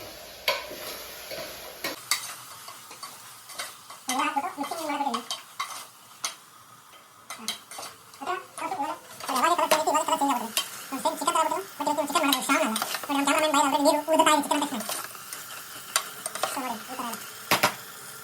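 Pulao ingredients are stirred and fried in a pan, with a steady sizzle under repeated scraping and clinking strokes of a spoon against the pan; a voice murmurs intermittently in the background.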